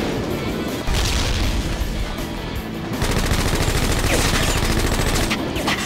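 Rapid automatic fire from the player's weapon in the ZMR shooter rattles loud and close in a dense, sustained burst that intensifies partway through.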